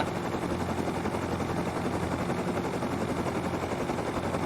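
Sustained rapid gunfire from automatic weapons in a video game, a dense, unbroken roar of shots that stays loud and steady throughout with no voices.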